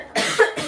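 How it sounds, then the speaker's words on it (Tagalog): A single short, harsh cough, close to the microphone. "inuubo ako"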